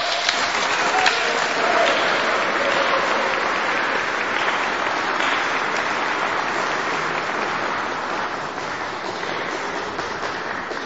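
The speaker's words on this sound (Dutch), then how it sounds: "En een applaus is zeker op zijn plaats." Audience applause at a benefit concert inside a church, a dense, steady wash of clapping from many hands that fills the room and fades slightly toward the end.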